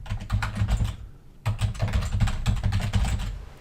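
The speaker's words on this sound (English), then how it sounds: "Then you actually have to type into the full name of the resource group." Quick, busy keystrokes on a computer keyboard, typing a resource group name in Azure during SQL Server replication setup; steady close clicking with a short pause near one second, no voices.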